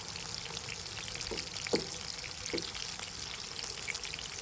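Pond-raised pangas fish fries in a pan with a constant, close sizzle, broken by a few soft taps and spatters.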